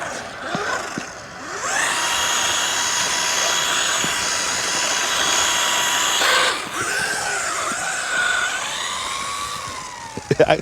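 A cheap UDI 1601 RC drift car drives steadily with a sustained high motor whine and tonal harmonics, shifting pitch near the end as it slows, then a few sharp clicks.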